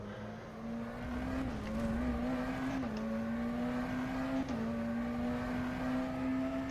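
A prototype race car engine from the rFactor 2 racing sim drones steadily near Le Mans testing, a sustained mid-pitched tone with slight dips and rises as gears change, no talk.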